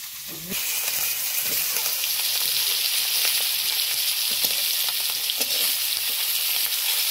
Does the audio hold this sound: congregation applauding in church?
no